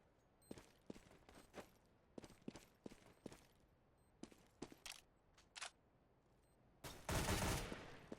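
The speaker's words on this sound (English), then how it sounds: "As good shooting by Havoc will take down Yam." Gunfire in a Counter-Strike match, with a run of sharp, rapid single shots spread over several seconds, then a louder sustained burst near the end.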